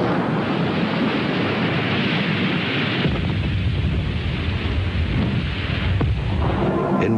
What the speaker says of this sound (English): the bomb sinks, and the depth-activated fuse triggers the explosion